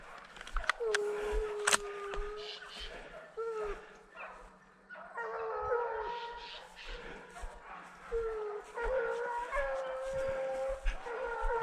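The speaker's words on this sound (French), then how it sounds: "J'ai les chiens qui rapprochent là." Hunting dogs bay and howl while closing in during a hunt at the season opening, several long drawn howls and barks overlapping at middle distance, with people talking now and then beneath.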